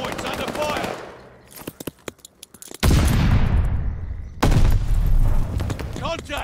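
Rapid automatic gunfire from a Call of Duty: Vanguard ranked match on the Bocage map: scattered sharp shots first, then loud sustained bursts of machine-gun fire with heavy booming rumble, close and dense.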